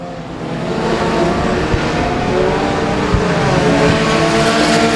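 Four-cylinder race cars circle Boothill Speedway in a sustained, loud engine drone that swells slightly as the pack runs together, with no clear single pass-by standing out.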